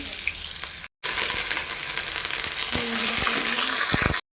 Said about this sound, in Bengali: মাছগুলো ভেজে নিলাম, তেল দিলাম